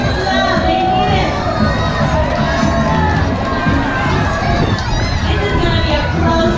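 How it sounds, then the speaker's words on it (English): A cruise ship audience cheers on a game during a stormy day at sea aboard Anthem of the Seas, producing a steady, loud crowd roar of shouting and excited voices throughout. "Cheer them on, everybody. Show them some love."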